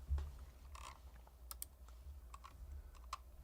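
Faint typing on a computer keyboard, with light irregular key clicks and a few sharper taps scattered over a quiet low hum.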